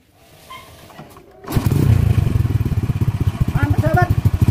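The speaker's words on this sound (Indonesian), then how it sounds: "kemudian kita tes apakah mesin motor ini sudah bisa hidup dengan menggunakan CDI yang kita buat tadi" A motorcycle engine fired by a homemade CDI ignition unit: after a quiet start it catches abruptly and settles into a loud, close idle with rapid, even firing pulses that keep chugging steadily to the end.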